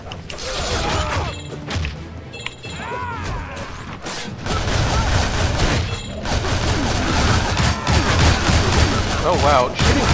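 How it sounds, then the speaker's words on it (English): Gunfire and crashing impacts from shooting enemies in the co-op brawler game Shank 2, set in a bombed church, sound as dense, continuous combat noise with bursts of shots, mixed throughout with speech. "shooting people from ladders gives you just so much gas"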